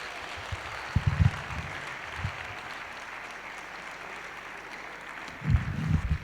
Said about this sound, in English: Please, let's keep clapping.